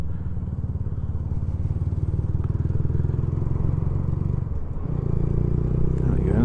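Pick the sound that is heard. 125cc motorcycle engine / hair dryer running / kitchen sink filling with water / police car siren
125cc motorcycle engine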